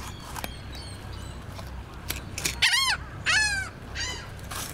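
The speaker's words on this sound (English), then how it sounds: "Those seagulls are so amazing." Several seagulls call out in loud, wavering cries, a few close together near the end, over a quiet outdoor background.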